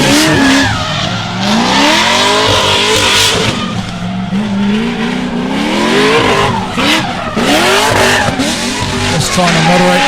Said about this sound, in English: Aggressive entry there from Jason, gives it a big old stab with the right foot, starts to bag those rear tyres, cranks the lock on